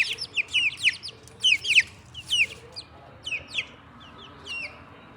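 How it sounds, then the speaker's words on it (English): A young rooster and growing chicks, bantam frizzles among them, chirp and cluck outdoors in quick bursts of high, bright calls that come in clusters and then thin out, close by over a low background hum. "I got one rooster for sure."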